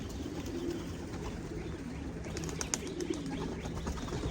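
Soft pigeon coos repeat against a steady, noisy background, with a few faint flutters and chirps scattered through it.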